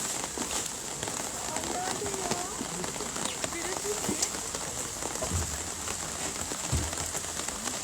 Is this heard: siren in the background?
no